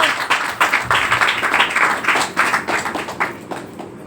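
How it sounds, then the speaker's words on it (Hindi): Loud clapping rings out in a church as the congregation claps hard, with uneven bursts of hand claps close by, some rhythmic and some overlapping, for a few seconds. "जोर से ताली बजाएंगे परमेश्वर।"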